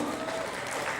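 Applause at a pencak silat cultural award ceremony as international presidents are introduced, a steady wash of crowd clapping throughout.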